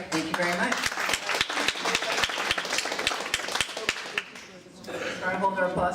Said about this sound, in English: Try to hold our applause to the end